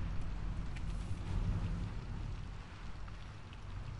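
Steady, dense hiss of heavy rain in a video game storm, with low rumbling thunder rolling underneath throughout, loud and continuous with no talk.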